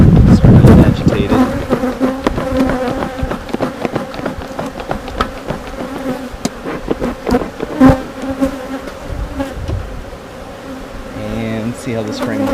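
Honeybees at an opened hive buzz in a dense, agitated swarm drone, close and steady throughout, with some handling noise and a brief louder burst partway through.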